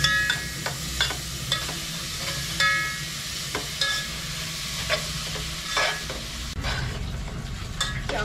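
Grated carrots fry in ghee for carrot halwa, giving a continuous close sizzle over a low steady hiss. A spoon stirs the pan in repeated scraping strokes, and no one speaks.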